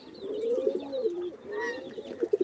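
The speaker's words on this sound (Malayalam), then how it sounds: "പ്രാവുകൾ കൂട്ടത്തോടെ ഉണ്ട് പ്രാവെല്ലാം നല്ല വലിയ വലിയ കെ ജിയിൽ ഇട്ടിട്ടുള്ളതാണ്" Fancy pigeons kept in large cages coo in a close, mellow, throaty rolling call, with a few fainter coos and light rustles behind.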